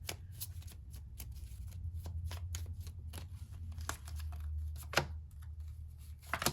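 Tarot cards being shuffled by hand, with a rapid run of crisp riffling flicks and slaps that stay close and steady throughout, ending in a few sharper snaps.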